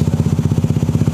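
Honda PCX 160 scooter with a stainless racing exhaust revving close up, a loud, rapid, throbbing exhaust pulse in a quick even rhythm.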